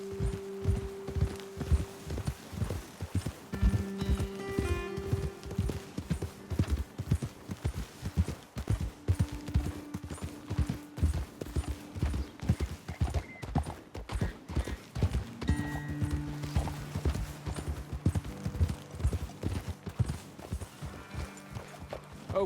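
Horses trot along a trail in Red Dead Redemption 2, a steady, close clip-clop of hooves running throughout with occasional tack jingles and faint tonal game sounds underneath.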